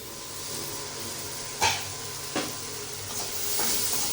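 Onions cooking in a little oil with salt inside a covered pan give a steady, fairly quiet sizzling hiss, broken by a few soft knocks or clicks; no one speaks.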